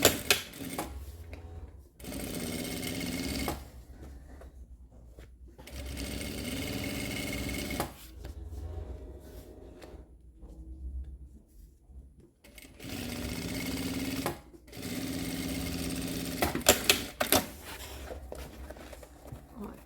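A sewing machine stitches a notebook bag in several long bursts of rapid, even whirring separated by quiet pauses, with a person talking at times between runs.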